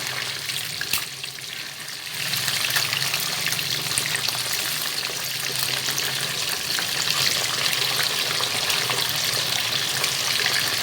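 Mutton pieces frying golden in hot oil in a pan: a loud, dense, continuous crackling sizzle that swells after a quieter opening couple of seconds and holds steady, close up.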